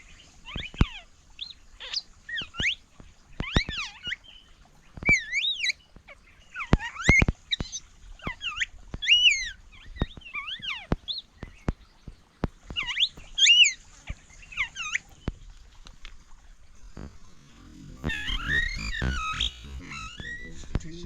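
A ringed wild bird in the desert near Ein Gedi calls repeatedly, close and clear, with sweeping whistled notes in a series separated by short pauses. Rustling noise follows at the end.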